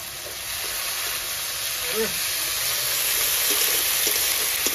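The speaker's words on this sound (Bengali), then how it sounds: "এ তো আদা তো চরবর চরবর করে ফুটছে" Ginger garlic paste with green chillies dropped into hot oil over browned onions sizzles loudly and steadily for a village night picnic meal, a near continuous hiss with faint voices in the background.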